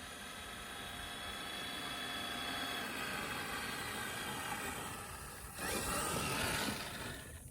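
An Axial SCX6 RC crawler running in first gear on a 6S battery gives a steady, fairly loud electric motor whine with broad noise, swelling briefly near the end as it speeds up; no talking.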